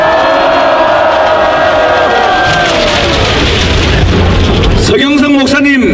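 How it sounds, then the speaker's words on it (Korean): A large crowd at an outdoor rally roars loudly and continuously, a dense wall of cheering and shouting with voices rising near the end. "여러분 큰 함성 보내주시기 바랍니다."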